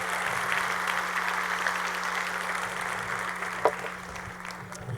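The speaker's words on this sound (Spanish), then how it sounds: "Dele un aplauso al Señor." A church congregation applauds during a Friday sermon, a steady wash of many hands clapping over a constant low electrical hum, with one sharper clap standing out near the end.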